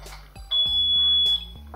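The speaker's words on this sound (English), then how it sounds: "when I activate the alarm and leave the room, then it's going to trigger the alarm" A bedroom security system alarm set off by a door opening gives a loud, piercing electronic beep lasting about a second, with clicks and room noise around it.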